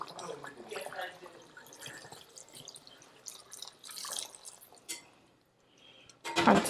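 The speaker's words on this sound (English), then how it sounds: "Add some more water." Water poured into a pot of boiling curry goat, with irregular splashes and drips at close range and a louder gush near the end.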